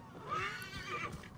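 A horse whinnies in Assassin's Creed Origins with a bright, wavering neigh that rises and falls over about a second, set against faint game ambience and hoof clatter.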